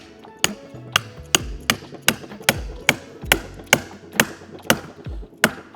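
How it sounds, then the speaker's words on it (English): Dead blow hammer tapping a shaft into place on a recliner during a knob-delete repair: about a dozen sharp, evenly spaced close knocks, one every half second, with no talk. "I'm just gonna use my dead blow hammer to tap the shaft into place."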